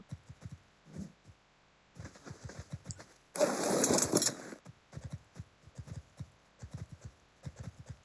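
Heavy footsteps of a ridden dinosaur in Ark fall in a steady, rhythmic clopping pattern, interrupted midway by a loud burst of noise, then resuming alone.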